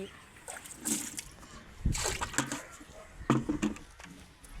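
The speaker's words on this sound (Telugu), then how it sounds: "మినపప్పు బియ్యము కడిగిన నీళ్ళు ఆ మజ్జిగలో పోసేస్తున్నాను" Water left from washing urad dal and rice is poured into buttermilk, giving a few short splashes and sloshing bursts at close range, fairly quiet, with no voices.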